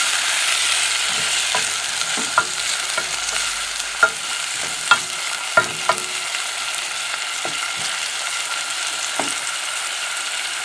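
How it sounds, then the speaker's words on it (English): Cabbage stir-fries in a pan as tomatoes are stirred in, a steady close sizzle broken by scattered sharp clicks and scrapes of the spoon against the pan. "At this point, you add in your tomato, tomatoes and stir."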